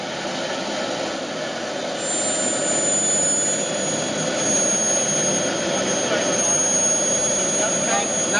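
Scale model gas turbine locomotive, kerosene-fired, idling at 45,000 RPM: a steady, loud jet-like roar with a high whine across the clip, growing slightly fuller after the first couple of seconds, while faint talk sits beneath it.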